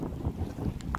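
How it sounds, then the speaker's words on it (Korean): Strong typhoon wind (Typhoon Tapah) roaring and buffeting against the microphone in low rumbling gusts at a riverside campsite, close and continuous for a brief moment. "바람소리 들리시고."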